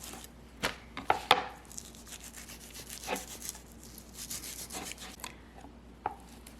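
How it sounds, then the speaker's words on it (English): A knife slices beef tenderloin into thin pieces on a board, giving a few sharp cutting knocks early on, then softer, scattered strokes against the wood. "Cut thin slices."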